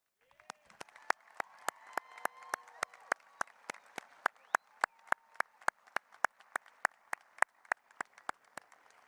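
Sparse, evenly spaced sharp claps ring out in a large hall at a high school commencement ceremony, welcoming new alumni over a faint, steady crowd murmur.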